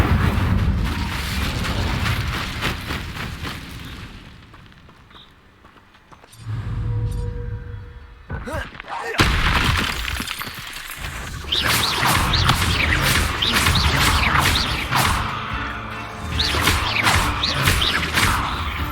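The Incendio fire spell cast in Hogwarts Legacy bursts out in loud, booming fiery blasts with crashing impacts, dropping briefly to a lull before a string of repeated explosive hits and roaring flames.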